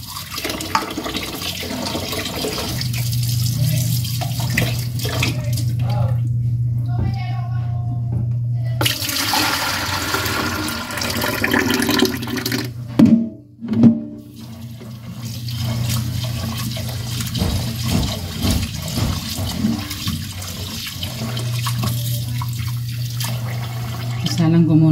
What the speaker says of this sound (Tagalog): Hugasan ko muna itong malagkit.